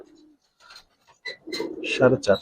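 A Giribaz silver pigeon gives a short low coo near the start, then people talk close by with a few more faint bird sounds mixed in.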